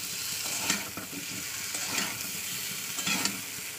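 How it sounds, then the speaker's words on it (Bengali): Water hitting a hot pan of banana curry sets off a steady broad sizzle with a few louder bursts of stirring and scraping, close and alone with no talk. "দিয়ে দিচ্ছি জল"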